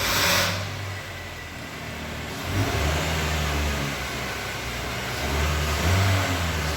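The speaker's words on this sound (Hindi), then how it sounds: "और फिर हीरो राजा दोनों गाड़ी में बैठ चुके होते हैं और राजा गाड़ी स्टार्ट करने लगता है।" A car engine runs and revs, rising and falling in a steady mid-pitched drone as it pulls away, heard close and alone for several seconds.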